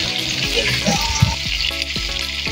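Pork and onions sautéing in oil in a pan for batchoy, a close, steady sizzle with faint stirring scrapes throughout.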